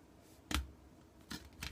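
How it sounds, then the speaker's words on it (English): Snips clip the pins of a chip on an Apple II memory board, giving three short, crisp snaps spaced apart, faint and close up with no talk. "you can get to the pins on the other side with your snips"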